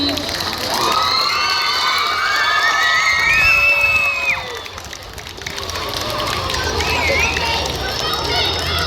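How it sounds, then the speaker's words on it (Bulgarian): Crowd at a 12th-grade graduation send-off ceremony cheering, whooping and shouting continuously, with loud sustained applause and noise that briefly dips mid-way before building again. "Още веднъж аплодисменти."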